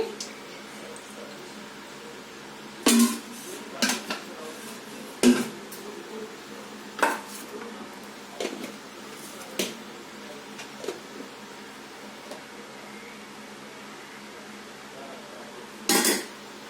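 A pan is set on a lit stove and oil is added while paneer masala curry is being cooked, giving scattered metallic clanks and knocks of cookware over a steady low hiss.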